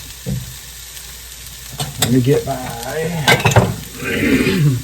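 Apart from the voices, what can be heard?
food sizzling in a frying pan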